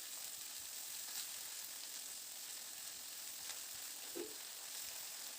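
Water spinach greens with onion and panch phoron frying in a pan, a steady soft sizzle throughout with a brief stir near the end, no talking.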